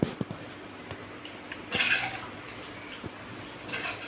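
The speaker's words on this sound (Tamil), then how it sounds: "இது கொதிக்கட்டும், மூடிக்கலாம்." Metal pot lid clattering onto a pot of simmering broccoli and peas kurma, a few light clinks and one clear ringing clank in a quiet kitchen.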